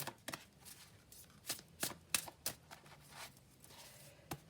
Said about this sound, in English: I'm going to put down an oracle card from that deck